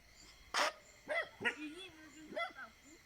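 Dog barks several times at a farm chicken coop at night, short sharp bursts spaced irregularly at moderate distance, with a voice talking between them.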